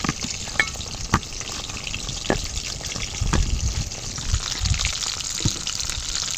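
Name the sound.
pointed gourd (potol) frying in oil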